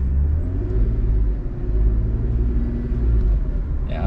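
A BMW E36 engine in a car driven with a manual gearbox by a learner, a steady loud low rumble with slight revving swells, close by and continuous without talk.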